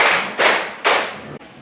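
A classroom group claps in unison in a rhythmic clap pattern, with loud, sharp strikes landing at a steady beat, each ringing briefly before the next.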